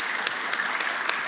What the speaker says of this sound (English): I think a round of applause is more than